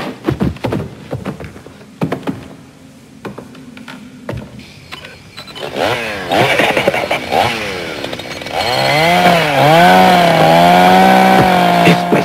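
A chainsaw revs up with rising and falling whines, growing louder and settling into a steady roaring run after scattered clatter at the start.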